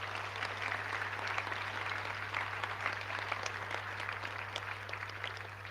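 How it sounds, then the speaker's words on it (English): A graduation audience applauds steadily and at length in a large hall, many hands clapping together at a moderate, distant level, with a constant low electrical hum running beneath. "So give yourself a round of applause first and foremost."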